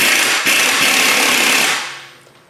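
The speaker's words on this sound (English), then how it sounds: "I'm using an air gun now instead of hand tools" A pneumatic air impact gun drives transmission bolts home through a long extension and a 13 mm swivel socket, a loud continuous whirring burst with a rattling hammer that runs for about two seconds and then trails off.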